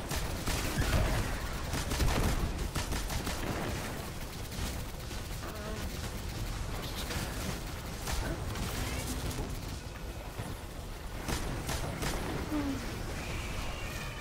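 Sustained video game gunfire rattles in rapid bursts under a busy mix of buzzing effects and background game noise, loud and continuous throughout.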